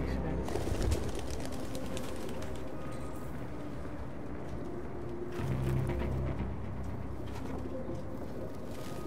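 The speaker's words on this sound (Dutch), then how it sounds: "Waarom zijn die duiven?" Pigeons coo in the video game Detroit: Become Human, soft repeated low calls over a murky ambient background, with quiet bursts of voice or movement noise mixed in.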